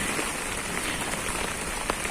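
Heavy summer downpour in a garden in Kyiv region, a steady dense hiss of rain pattering on leaves and surfaces, loud and continuous without pause.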